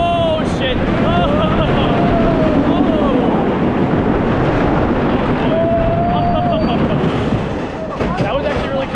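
Riding the Colossus wooden roller coaster at Six Flags Qiddiya City: loud rushing wind and rumbling track noise throughout, with riders shouting and talking over the roar.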